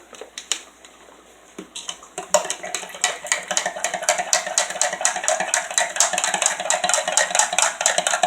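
A spoon stirs a Prolessa Duo drink mixture in a jug, giving rapid, regular clinks and scrapes that start after a few scattered taps and continue steadily, close and fairly loud.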